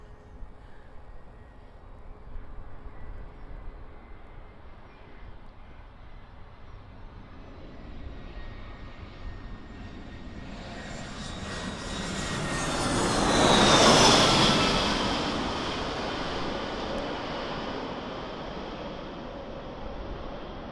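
An Aer Lingus airliner from Dublin passes at Birmingham Airport, its jet roar building slowly from a distant hum to a loud, broad peak near the middle before fading again, heard alone over outdoor background noise.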